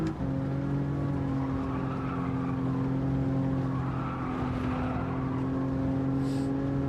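A race car in a racing video game time trial holds a loud, steady engine drone with strong sustained harmonics throughout, no one speaking.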